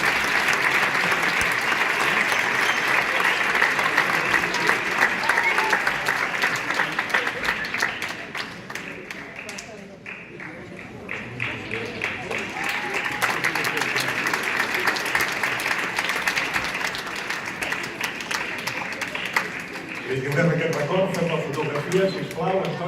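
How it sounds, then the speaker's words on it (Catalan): Audience applause fills a hall at a city gold medal award ceremony, steady and sustained for about twenty seconds, easing slightly midway before swelling again, with some voices mixed in near the end. "demanem que també pugi en aquest escenari, amb un aplaudiment"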